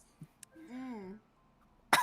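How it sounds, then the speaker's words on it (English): A tabletop role-playing game narrator lets out a short throat sound, then a single sharp, close cough right at the end. "Cough, cough."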